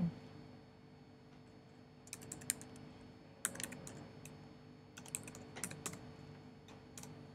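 Computer keyboard typing in bursts of quick clicking keystrokes, close and fairly quiet over a steady low hum, entering text into an internet browser, with short pauses between runs of keys.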